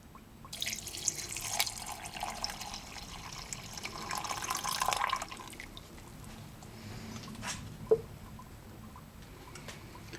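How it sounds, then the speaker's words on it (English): Tap water pours into a brass tumbling barrel holding stainless steel media and brass, running steadily for about five seconds before it stops, leaving drips and a single clink. Close by, with no talking. "Then you want to put some water in."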